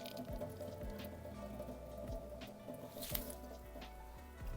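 Hands squeeze brine out of salted eggplant slices, making soft, close, quiet wet squelches and scattered drips of liquid in an irregular rhythm.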